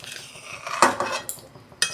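Vegetables going into a pot of vegetarian khichuri with lentils and rice, with a few sharp metal clinks of a utensil against the pot standing out over a soft background.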